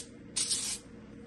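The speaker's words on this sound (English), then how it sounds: "I'm also going to spray the parchment paper" A single short hiss as baking spray is sprayed onto parchment paper lining the pot of a Ninja Speedi cooker, close and fairly loud against quiet background.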